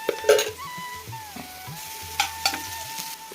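A pan of onions and leftover chicken with ginger garlic paste stirred in gives soft frying and scattered scraping clinks of a spatula, with light intermittent sizzle at moderate volume.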